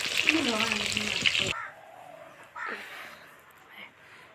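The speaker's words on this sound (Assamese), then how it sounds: "তাই মাছ ভাজি আছে চৌকাত।" Fish frying in a pan on the stove on Uruka night of Bhogali Bihu: a loud, hissing sizzle dominates the opening second and a half, then cuts off abruptly, leaving quieter background with a voice talking.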